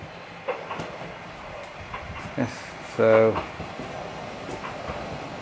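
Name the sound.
old train running on rails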